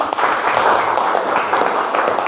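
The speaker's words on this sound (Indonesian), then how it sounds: "tepuk tangan dulu" Students in a classroom clap for a group that has just presented, a brief, fairly loud patter of many hands with a faint murmur underneath.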